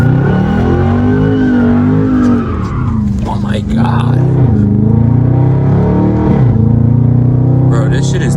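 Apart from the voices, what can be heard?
Dodge Charger Scat Pack revving while sliding a corner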